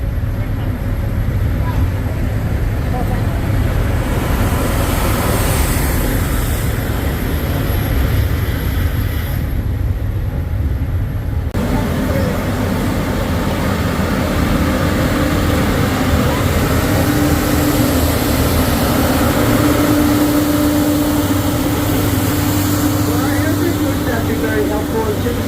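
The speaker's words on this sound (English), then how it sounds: "Train comes to a stop." A train with older passenger coaches rumbles in a continuous heavy, close roar as it slows toward a stop, with a faint squeal rising in the second half and voices talking throughout.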